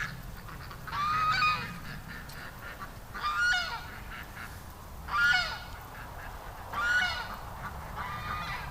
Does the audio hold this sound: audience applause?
no